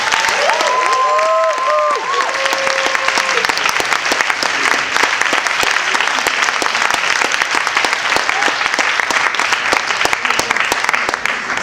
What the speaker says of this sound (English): So please give a huge applause to our logistics team.